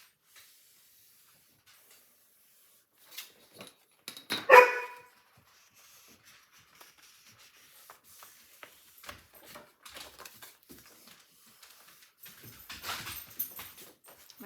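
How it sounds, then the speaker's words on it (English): A dog indoors gives one loud, sharp bark close by, followed by scattered soft rustles and light movement noises around a home crafting table. "My dog has a friend over."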